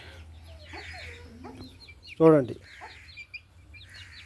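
Chickens with chicks clucking nearby in a home yard, soft scattered clucks and peeps with one louder, longer call midway, a person speaking briefly.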